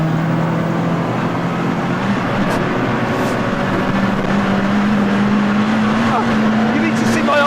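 A new Toyota car is driven hard on a track, its engine holding a loud, steady drone that rises slightly in pitch as it pulls through a corner. The sound is close and continuous.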